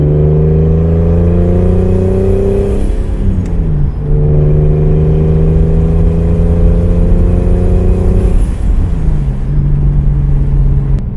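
A turbocharged BMW E36 engine pulls hard through two rising gear runs with a brief dip at the shift, loud, steady and close, droning with no talk over it.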